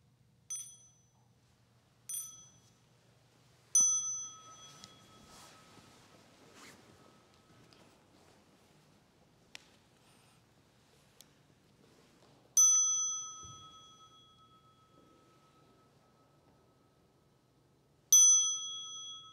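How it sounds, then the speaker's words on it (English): A small meditation bell is struck several times in a quiet hall, each clear ringing tone sustaining and slowly decaying, with soft rustling and near silence between strikes. "with the next sound, a small bell, we'll stand up and face towards Thai"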